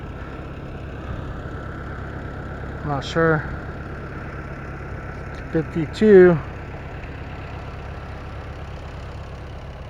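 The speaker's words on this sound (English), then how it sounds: "An old orchard tractor over to my right here." An old orchard tractor engine idling at an antique tractor show in West Liberty, Ohio, a steady low rumble running throughout while people talk briefly nearby.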